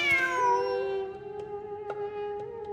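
A cat meows in the game Genshin Impact, one drawn-out, rising and falling cry near the start that settles into a thin sustained tone, heard clearly over a low game ambience with faint clicks.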